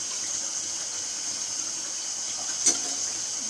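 Water running from a tap to bathe a child, a steady, moderate gushing stream with one brief louder splash near the end.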